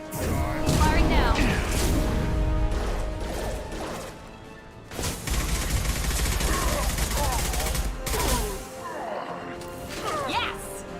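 Gunfire in Mass Effect 2, dense bursts of automatic shots and impacts in two long volleys with a brief lull between, loud and close, with voices talking in the mix.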